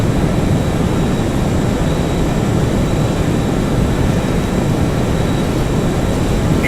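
Boeing 737-200 jet engines at full takeoff power in the X-Plane 11 flight simulator, a loud, steady roar with a continuous low rumble and a faint high whine, unbroken and without talk.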